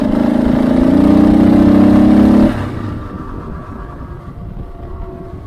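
Motorcycle tires rolling on a road, MotoZ Tractionator tires, a loud close steady hum and rumble that shifts in tone partway through before settling into a lower, rougher roar.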